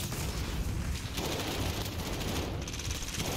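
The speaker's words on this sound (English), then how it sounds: "I walked back there and somebody's doing some hellacious shooting" Dense gunfire in the video game Killhouse, with rapid automatic bursts and overlapping shots in a steady, noisy barrage that never lets up.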